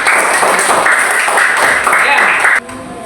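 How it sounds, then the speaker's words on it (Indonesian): A fifth-grade classroom breaks into brief clapping, bright and close, at a fairly even level for a couple of seconds before it cuts off abruptly and a quieter tone follows. "Tepuk tangan dulu."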